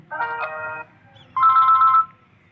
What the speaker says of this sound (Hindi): तीन रिंग टूनस हैं इसकी अपनी वाली ओरिजिनल रिंग टूनस